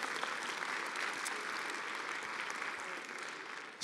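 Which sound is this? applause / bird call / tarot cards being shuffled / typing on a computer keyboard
applause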